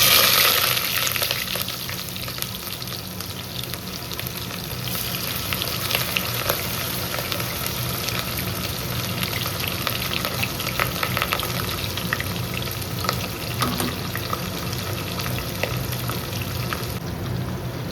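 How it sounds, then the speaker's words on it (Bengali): Chopped onion frying in hot oil for a chicken dish gives a loud, steady crackling sizzle that runs unbroken for about eighteen seconds, with faint stirring movements underneath and no voices. "এবার আমি তেলের মধ্যে পেঁয়াজটা অ্যাড করছি।"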